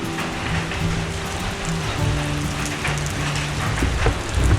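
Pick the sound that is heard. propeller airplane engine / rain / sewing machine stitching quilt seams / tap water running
rain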